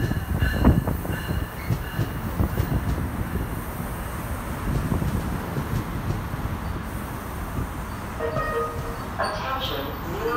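An NJ Transit train on the Morris and Essex Lines rumbles steadily at Newark Broad Street station during the evening rush, with low rolling wheel noise, faint squeals and some voices in the background.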